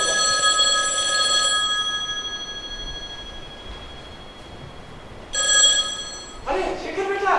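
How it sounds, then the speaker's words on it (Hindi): A telephone bell rings indoors in bursts, with two ringing stretches separated by a quieter pause, fairly loud and close. "अरे सावित्री, ओ सावित्री जल्दी आ, तेरे बेटे का फोन आया है"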